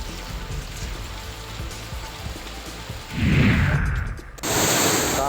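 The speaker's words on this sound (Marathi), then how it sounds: "यवतमाळच्या अनेक तालुक्यांमध्ये अवकाळी पावसानं हजेरी लावली।" Unseasonal December rain falls across the talukas of Yavatmal, a steady broadband hiss of rain on surfaces that swells midway and then shifts abruptly to a brighter, denser wash near the end.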